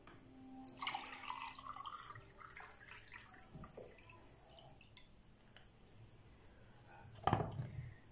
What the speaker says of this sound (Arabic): الآن سوف أسكب الماء